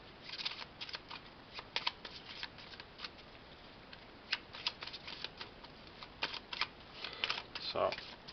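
Cards for the Museum Rush board game are shuffled quietly in repeated bursts of soft riffling and flicking, with short pauses in between.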